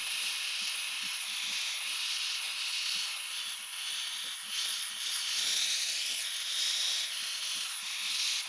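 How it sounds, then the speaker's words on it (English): A Harbor Freight Grant's steam cleaner blasts steam onto a label in one long, even, close hiss that holds steady throughout with slight swells, with no talking. "Let's try hitting it with some more steam."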